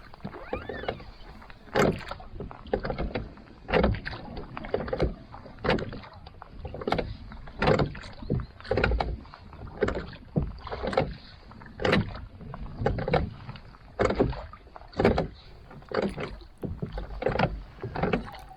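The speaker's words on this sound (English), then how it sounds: "had squeaky rowlocks and mine were rattling" Rowlocks on a rowing dinghy squeak and rattle with each stroke, a steady rhythmic creak-and-clunk repeating about every second, close by and without talk.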